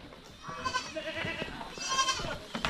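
Goats squabbling right after being let out give a few strained, overlapping bleats, close and moderately faint, with no talk.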